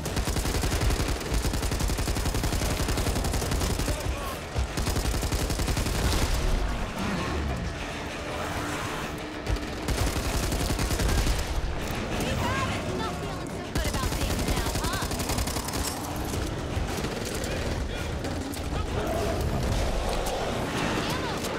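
Dense gunfire fills the scene in the zombie shooter Back 4 Blood during a fight against a Breaker, continuous and loud throughout, with players talking over the shooting.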